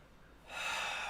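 One deep, airy inhale during a restorative yoga side stretch starts abruptly partway through and continues as a steady, close breath sound in an otherwise quiet room.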